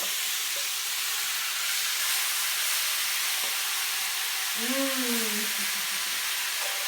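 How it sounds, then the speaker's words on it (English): Meat searing in a hot pan on medium-high heat gives a steady, loud hiss and sizzle throughout, with a brief tonal squeal partway through and no talking. "The trick with searing meat like this and getting a nice brown on it is to leave it alone."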